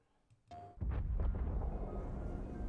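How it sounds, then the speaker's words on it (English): A cinematic explosion sound effect: a short rising whoosh and then a deep, loud boom that rumbles on with a long roaring tail. "There's like a boom explosion in the galaxy."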